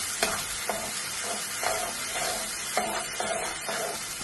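Green masala of ginger, garlic, green chilli, coriander and mint sizzles in a hot pan with a steady hiss, broken by rhythmic scraping stirs about every half second, close and alone without talk.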